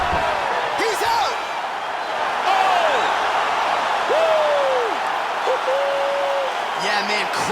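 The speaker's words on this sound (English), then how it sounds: "crowd loving it" A video game arena crowd in EA Sports UFC 4 roars steadily after a knockout ends the fight, a dense sustained cheer with commentators talking over it throughout.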